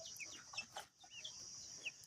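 Young Giriraja chicks cluck and peep softly, a few brief high calls scattered over a quiet background, near but faint.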